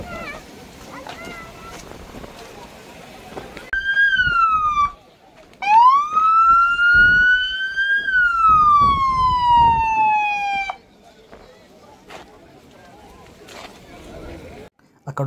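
A police patrol traffic car's siren sounds loudly nearby at a National Day event in Kuwait, with rising and falling wails in two bursts before cutting off, over background crowd noise.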